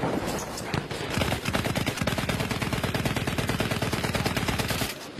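Rapid machine-gun fire in a video game battle with cavalry around: a loud, continuous stream of evenly spaced shots that runs almost the whole time, then stops just before the end.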